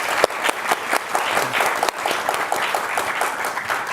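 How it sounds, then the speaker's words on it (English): Audience applause for a government minister after a conversation event, a dense, lively round of clapping that holds steady and fairly loud, with a few sharper claps standing out. "please join me in a round of applause for the Minister for his remarks and time"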